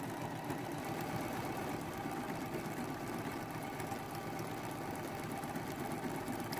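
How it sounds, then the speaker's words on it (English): A home sewing machine stitches decorative starburst stitches on a quilt block, giving a steady mechanical whirring hum with rapid needle ticking and no pauses, fairly quiet and close. "For this, I chose stitch number 55 on my machine. And I'll do 5 little starbursts right down his tummy."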